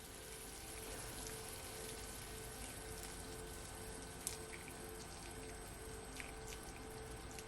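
Steady stream of water poured into a cooking pot for Jamaican cow foot, a continuous close splashing wash running throughout with one small knock partway through, no talking.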